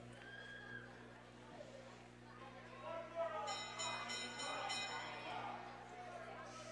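A last-lap bell rings at a short track speed skating race at age group nationals, a quick run of bright repeated strikes over a steady arena hum and ongoing commentary.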